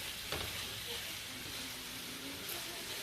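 Ingredients stirred into a sizzling pan, a steady soft frying hiss with faint scraping of a utensil, fairly quiet, with brief talk nearby.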